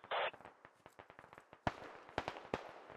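A frag grenade bursts in a woodland airsoft game, a sharp nearby blast around midway followed by several smaller pops and crackles, with a short burst of static-like noise at the start.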